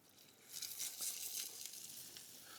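Fish sizzles and crackles as it goes into a pan of tomato sauce, a steady close frying hiss with no talking.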